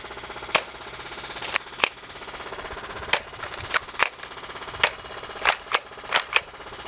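A Nerf DinoSquad Raptor-Slash blaster slam-fires foam darts as a string of sharp, close snapping shots at uneven intervals, some coming in quick pairs, over a quiet room.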